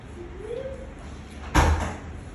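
A door being opened, giving a single short thud partway through against quiet room noise, with faint voices around it.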